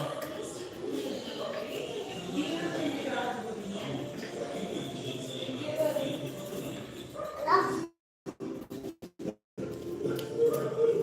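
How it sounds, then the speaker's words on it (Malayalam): Several street dogs bark and yip in the background outside while a person talks nearby, followed by a few choppy dropouts. "ഇവിടെ പുറത്തേക്ക് ഇറങ്ങാൻ പറ്റില്ല ഫുള്ള് നായ്ക്കള"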